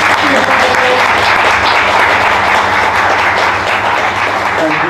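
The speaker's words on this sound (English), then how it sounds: "Well, if that's it, a huge round of applause for Jess." Audience applause at a conference talk on brand and IP crossovers: a loud, dense, steady wash of clapping that fills the whole stretch with no break.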